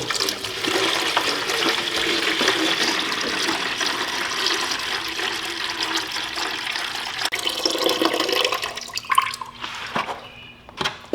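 Water pours out in a steady rushing stream, then slows to gurgles and scattered drips near the end.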